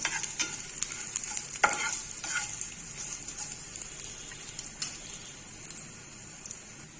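Garlic and curry leaves sizzling steadily in a pan over low heat, a constant hiss with occasional scrapes and knocks from stirring.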